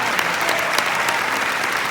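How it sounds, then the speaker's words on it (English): Congregation in a church applauding steadily throughout, a dense, continuous wash of many hands clapping at a revival-style service with no speech over it. "Clap your hands and say yes."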